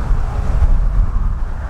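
Strong southerly crosswind buffets the microphone outdoors on a boat near the Dniester estuary, a continuous low rumbling roar with gusty surges throughout.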